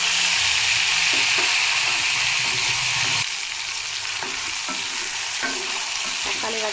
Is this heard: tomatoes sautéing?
yes